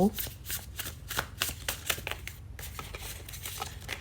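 Tarot cards being shuffled by hand produce a steady, soft riffling and flicking, close up, while someone speaks over it.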